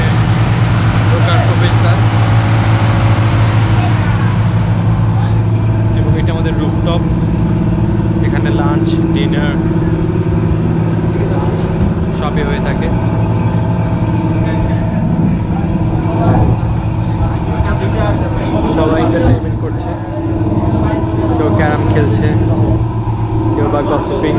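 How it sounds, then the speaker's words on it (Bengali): Cruise boat engine room machinery gives a loud, steady mechanical drone with a strong low hum and constant rattling texture, heard close up throughout. "এটি আমাদের সাধারণত ইঞ্জিন রুমে"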